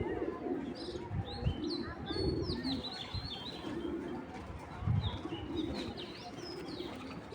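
A flock of club pigeons keeps up a steady, murmuring coo, swelling in a few louder throaty bursts, while sharp little chirps flicker overhead.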